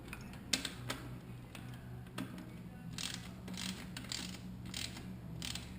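A bolt is tightened while a Panasonic e-bike motor is fitted, giving a string of soft ratcheting clicks and light metallic taps, close and fairly quiet, with bursts clustered toward the end and no talking.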